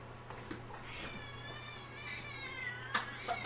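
A cat meows several times at close range, the drawn-out calls faint above a steady low mains hum, with brief human voices near the end.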